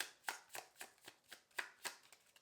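Tarot cards being shuffled by hand give a quiet, rhythmic run of crisp riffling snaps, about eight evenly spaced flicks heard close up with no voices.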